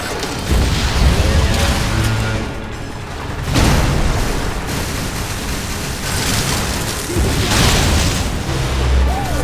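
Missile blasts in Metroid: Other M land as several heavy, rumbling booms spread across the stretch, loud and close, with brief quieter gaps between them.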